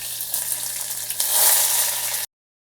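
Chopped onion fries in hot oil in a pan for a creamy prawn curry sauce, giving a loud, bright, continuous sizzle that swells midway and then cuts off abruptly.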